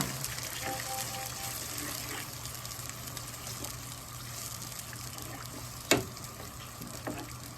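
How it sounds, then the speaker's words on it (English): Water poured into a cooking pot for a Belizean boil up, a steady rushing splash close by, with a brief louder clunk near the end. "And then we're going to add some water and let this cook down."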